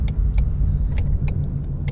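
Tuned E85 Ford Mustang GT V8 rumbling steadily from close by inside the car, a low continuous engine drone with faint ticks and clicks over it, no clear rising surge.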